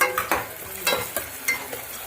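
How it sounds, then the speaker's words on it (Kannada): One large tomato frying in a pan for village-style chicken curry, stirred with a utensil: close, loud sizzle broken by rhythmic scraping strokes about every third of a second, no talk. "ಇದು ಸಾಫ್ಟ್ ಆಗಬೇಕು ಅಲ್ಲಿವರೆಗೂ ಫ್ರೈ ಮಾಡಬೇಕು"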